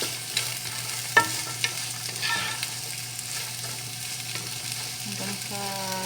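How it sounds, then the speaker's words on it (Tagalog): Raisins with carrots frying in a pan for Arabic-style bukhari beef, a steady soft sizzle with a spoon stirring and an occasional sharp clink against the pan, fairly close. "Pretuhin muna natin siya"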